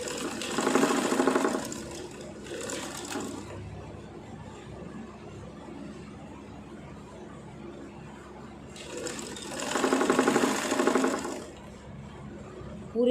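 A sewing machine stitches along a bra belt, running in two loud bursts of about two seconds each with a shorter burst between them, against a quiet room.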